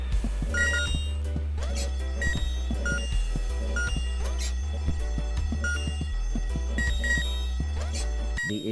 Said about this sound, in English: The ear-splitting sound was the fire alarm